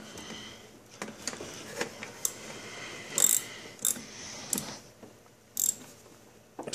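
Ratchet with a regular 5/8 inch socket tightening the spark plug on a Chinese 49cc scooter, a few quiet, sparse clicks and taps close by with no talking.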